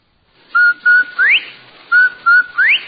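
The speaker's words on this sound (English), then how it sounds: "That whistle. That's the Rinso White whistle." The Rinso White radio advertising whistle, a loud, close two-note whistled jingle: two level tones, then a rising swoop, played twice in a row with no talk over it.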